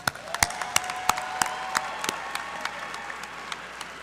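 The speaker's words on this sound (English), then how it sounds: "Let's give our graduates another round of applause." Audience applause for graduates at a fall commencement ceremony: dense, steady clapping from a large crowd with sharp individual claps standing out, and a faint sustained tone running underneath throughout.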